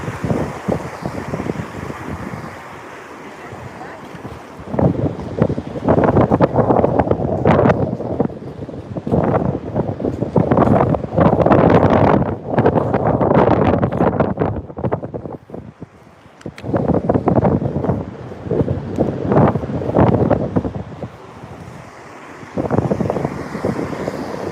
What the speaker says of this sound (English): Wind's been coming out of the north for the last couple of days.